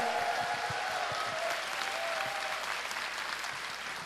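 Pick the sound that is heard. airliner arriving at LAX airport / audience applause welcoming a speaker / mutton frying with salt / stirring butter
audience applause welcoming a speaker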